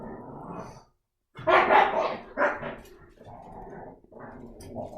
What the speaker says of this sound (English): My doggies are growling in the background, sorry.